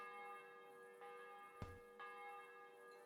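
A church bell tolls in Kingdom Come: Deliverance II, with a few faint, distant strikes about a second apart over a quiet background hum.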